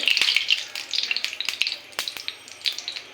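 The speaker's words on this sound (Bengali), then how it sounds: "পানিটা ছিটে তেলে পড়ছে তখন তেলটা ফুটছে" Pumpkin flower fritters fry in hot oil as water spatters into it, giving a dense, close, continuous crackle of sharp pops and sizzling with no voices.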